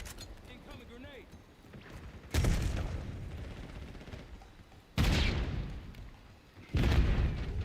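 Grenade explosions in Call of Duty Black Ops 6 burst out as three loud, sharp blasts spaced a few seconds apart, each decaying into rumbling gunfire and battle noise with a voice talking underneath.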